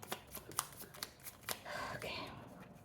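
Oracle cards are shuffled by hand in a quiet room, giving soft crisp riffles and taps in a loose rhythm that ends in a longer smooth slide, with faint whispered speech around them.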